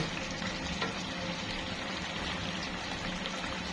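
Pabda fish with onions and chilies fries in a pan and is turned over, producing a dense, continuous sizzle that stays even and close throughout.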